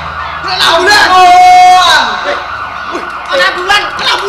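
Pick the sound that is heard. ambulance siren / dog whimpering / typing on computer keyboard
ambulance siren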